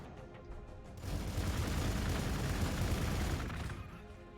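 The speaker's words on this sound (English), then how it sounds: "Well, let's use this grenade." A grenade blast and a burst of gunfire in the turn-based strategy game Warhammer 40K: Gladius – Relics of War rise into a sustained rumbling volley that holds for a couple of seconds and then fades.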